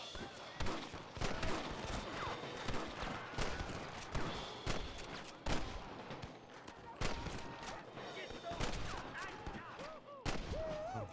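Repeated gunshots from a Western shootout in the video game Red Dead Redemption, loud and irregular cracks over steady game ambience with horse hooves and a voice speaking at times.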